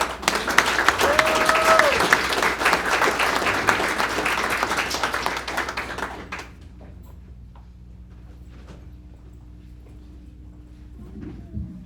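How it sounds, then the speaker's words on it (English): Graduation audience for the Wilmington HOPE Commission graduates breaks into loud, dense applause with a few whistles, sustained for about six seconds before dropping abruptly to quiet room tone. "Ladies and gentlemen, can we have a round of applause for the graduates?"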